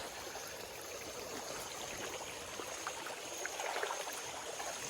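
A hillside stream of water runs down from the hills through dense forest toward a river, a steady soft rush and trickle heard close and alone, slightly louder toward the end.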